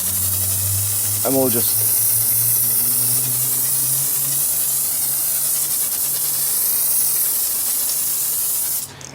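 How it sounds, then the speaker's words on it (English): A Maralex pressurized foam sprayer hisses steadily and loudly from start to finish, with someone speaking briefly over the spray near the start. "I've got my Maralex pressurized sprayer here"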